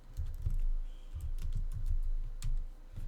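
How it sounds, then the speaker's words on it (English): Quick bursts of typing on a computer keyboard, short clusters of light key clicks with brief pauses between them, close and clear with no talking. "I can go here and I can type that in there."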